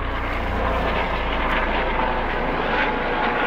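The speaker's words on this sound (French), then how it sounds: "ça c'est l'hélicoptère du SAMU en plus" A low-flying SAMU medical helicopter passes overhead, its engine and rotor forming a loud, steady rumble that persists throughout without any talk.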